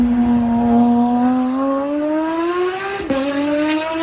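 A Porsche 992 engine revving hard, one loud, close, rising whine that climbs in pitch, drops sharply with a gear change, then climbs again, no talking.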